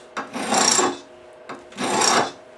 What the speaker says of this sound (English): I'm filing away from the root side